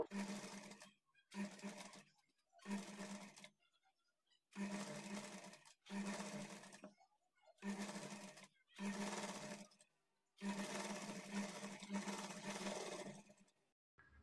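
A sewing machine stitches the side seam of a blouse, running in about seven close, even bursts of a few seconds each, separated by short pauses as the fabric is turned, with one longer final run.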